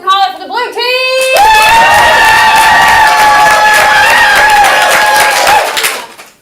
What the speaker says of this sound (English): So you're going to applaud for the loudest for the team that you want to get the points.